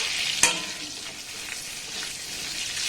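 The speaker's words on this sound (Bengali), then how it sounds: "এটাকে একটু নাড়াচাড়া করে আমি ভেজে নেব" Whole cloves, cardamom pods, cinnamon and a bay leaf sizzle in hot oil for a fried rice dish, with a sharp clink of a spoon near the start and steady frying hiss as they are stirred, no voices.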